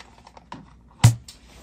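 Keys on an MPC Electronics MPC-1 keyboard give a few light clicks, then one sharp, loud clack close by.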